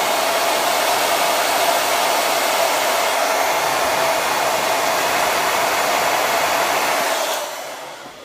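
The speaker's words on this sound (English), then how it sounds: "Let me grab the hair dryer." A hair dryer blows loud and close with a steady whooshing roar that holds even for several seconds, then drops sharply in level near the end.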